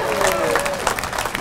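A political audience breaks into loud applause mixed with cheering and crowd murmur, close and full, with voices mingling in the clapping.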